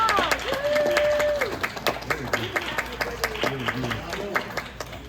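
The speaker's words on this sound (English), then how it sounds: "Let's give it a big round of applause." Audience clapping after an evening lecture-recital, scattered and fairly close, mixed with talking voices and a sung or hummed tone throughout.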